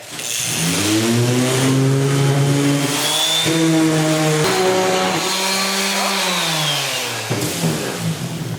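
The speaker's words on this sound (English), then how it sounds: "So I'm just going to start sanding it down a little bit." Power sander working over old wood, a loud continuous motor whine with shifting pitch that holds steady for several seconds before dropping off near the end, no voices.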